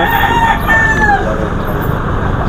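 A rooster crows amid the steady hubbub of a gamefowl market in San Jose del Monte, Bulacan, where Maclean Claret cocks are for sale; one drawn-out call rises over dense crowd noise, with faint voices in the background.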